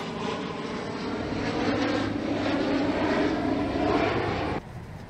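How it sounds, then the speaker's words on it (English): An airplane climbs away after takeoff from CVG airport, heard from outside as a steady, broad engine roar at moderate distance. The sound holds for several seconds and then fades slightly. "He just took off from CVG and he, now he's going back."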